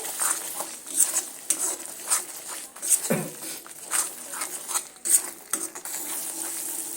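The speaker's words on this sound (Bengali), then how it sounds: "এবার আমি আবারও এটা মিনিট পাঁচে সময় নিয়ে কষিয়ে নেব যতক্ষণ না কড়া থেকে একটা সুন্দরভাবে তেল ছেড়ে দিচ্ছে" Dry spices being sautéed in a wok for egg champ, irregular scraping and clattering of a spoon against the pan over a faint sizzle, with uneven bursts of stirring.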